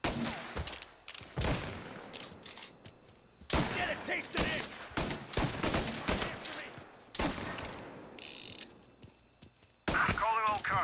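Bursts of gunfire in the video game Mafia: Definitive Edition, several sharp volleys and rapid shots separated by short pauses, loud and close, with a character speaking between the shots.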